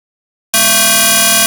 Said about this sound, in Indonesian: Nah, itu adalah suara sinyal yang sudah dimodulasi.